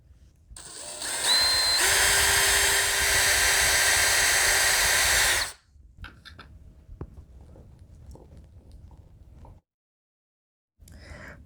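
A power drill bores pilot holes into an MDF board, with a steady loud whine for about four seconds that then cuts off, followed by faint handling clatter.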